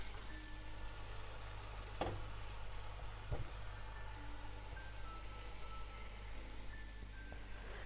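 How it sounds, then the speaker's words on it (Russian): Tender meat cutlets fry in a pan with a soft, constant sizzle heard from a distance over a low background hum, broken by a couple of faint clicks, with no voices. "Обжариваю с одной стороны и переворачиваю"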